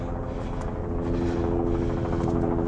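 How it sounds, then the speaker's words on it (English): A helicopter drones nearby, its rotor thumping steadily in a loud, continuous low roar throughout. "hear the helicopter flying by."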